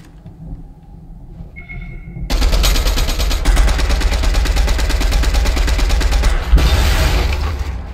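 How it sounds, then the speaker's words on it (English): Sustained automatic gunfire in a Fortnite Battle Royale match, a rapid loud burst of shots that starts after a quiet stretch with a short tone and keeps hammering to the end, with booming low impacts under the rattle. "You're getting shot from the right as well."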